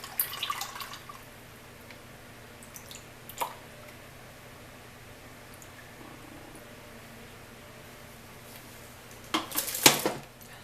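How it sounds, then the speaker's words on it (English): Soap-making oils are poured into a mixing bowl, heard as a quiet trickle with soft splashy clatters at the start, a single knock midway and a louder splashing burst near the end. "So I'm going to go ahead and pour my oils into my mixing bowl."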